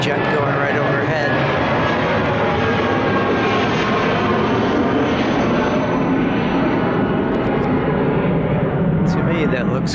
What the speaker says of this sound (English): Sorry for the noise, a jet going right overhead.